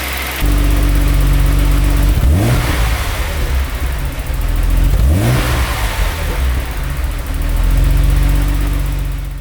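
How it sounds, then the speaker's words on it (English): Jaguar XJS 3.6 with a sports exhaust at idle, recorded from the rear, given three light revs spaced a few seconds apart that swell and drop back to a deep burble. "This has a bit of a sports exhaust on it, so I'll set up in the back, give it a few light revs, you can hear what it sounds like"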